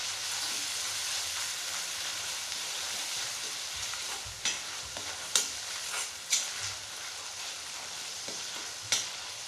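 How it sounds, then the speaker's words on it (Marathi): Ginger garlic paste frying in a pan for street-style pav bhaji, with a steady close hiss of sizzling oil broken by a few sharp clinks and scrapes of a spoon stirring. "त्यामध्येच आपण अद्रक लसूण पेस्ट टाकतोय।"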